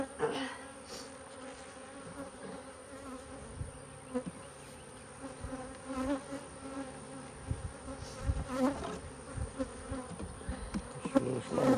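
Honey bees buzz steadily around a small working hive in an apiary, a dense continuous drone close by with occasional louder passes of individual bees.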